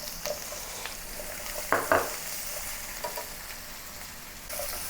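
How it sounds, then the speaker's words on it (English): Ginger, green onion white parts and red chili sauté in a pan over medium heat, a soft steady sizzle broken by a couple of brief stirring scrapes near the middle. "Saute for about a minute over medium heat"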